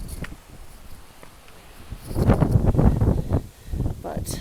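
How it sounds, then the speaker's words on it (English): Gusty wind buffets the microphone on a mountain ridge along the Appalachian Trail in Shenandoah, quieter at first then surging into loud rumbling blasts before easing slightly. "it's quite windy out here today"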